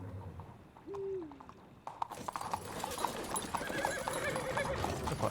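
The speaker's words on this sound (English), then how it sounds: "Such an elegant horse." Horse in The Witcher 3: Blood and Wine game whinnies once early on, then hooves clip-clop steadily at close range over game ambience, with no talking.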